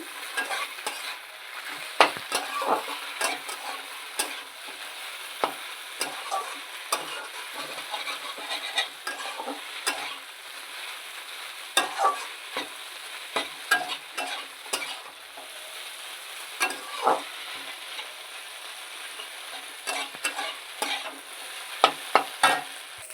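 Flattened rice pilaf with egg fries in a pan, a continuous soft sizzle under frequent light scrapes and taps of a spatula as it is stirred, close and moderately loud throughout.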